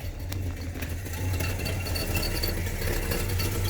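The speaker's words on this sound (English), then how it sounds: "Engine's idling." A truck engine idles steadily at about 458 RPM with a low, even rumble and faint mechanical ticking, continuous with no voices.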